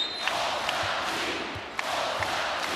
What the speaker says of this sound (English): Crowd's on its feet.